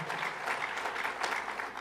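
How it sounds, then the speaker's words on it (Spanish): A church congregation applauds steadily and densely for a couple of seconds, a sustained wash of many hands clapping with no talk over it. "dele fuerte el aplauso al Señor si se lo quiere dar"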